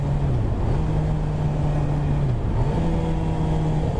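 Suzuki GSX-R 750 motorcycle downshifting through the gears with the clutch pulled, a steady close engine drone whose pitch drops in steps as the revs fall and rise again, continuous and loud with no talk.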